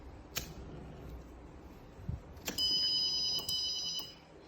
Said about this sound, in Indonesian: Yang menyala itu adalah relay dan buzzer